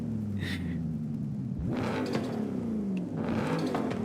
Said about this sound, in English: Oh, listen to the turbo. That blow off valve sound, the turbo sound is like,